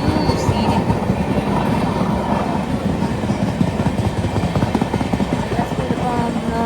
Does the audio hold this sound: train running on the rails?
yes